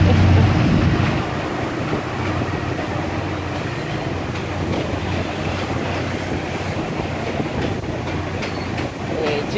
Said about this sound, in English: 住宅街の真っ只中をこの電車は通っていきます。